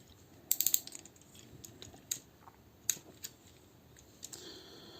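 The ratcheting lower-leg joint of a Newage Hephaestus action figure gives a quick cluster of sharp plastic clicks, then a few isolated faint clicks, close and quiet against soft room hiss.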